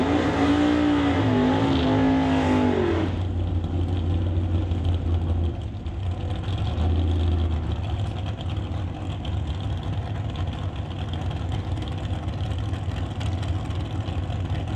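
Black Chevelle and a dragster at a drag race in Mission, BC, their engines loud and close: a revving, rising whine at first, then a sustained, heavy, rumbling roar that fills the rest of the run.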